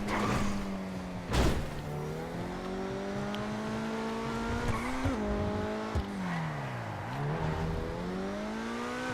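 Coquette D10 Pursuit, a Corvette police car in GTA Online, driving with a loud, continuous engine note that climbs and dips through gear shifts and revs, with a sharp impact near the start.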